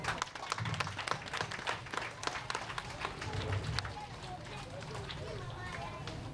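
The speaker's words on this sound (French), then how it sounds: "Un grand merci pour elles. Nous pouvons les applaudir." Faint applause for childcare staff at a kindergarten year-end closing ceremony, a dense patter of many hands clapping at a distance that gradually softens into a quieter, steady wash.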